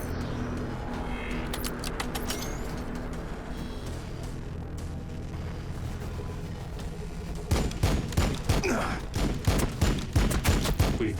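Warhammer 40,000: Battlesector battle gunfire, a distant low rumble of fighting that turns into rapid, loud bursts of repeated shots near the end.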